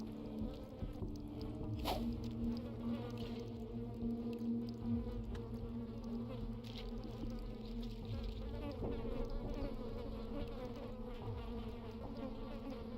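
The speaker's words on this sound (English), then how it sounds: "I'm hearing flies buzzing around everywhere." Flies buzz steadily all around throughout a scene in Vampire the Masquerade: Bloodlines, a continuous insect drone layered over low ambient game audio, with a brief sharp accent near the start.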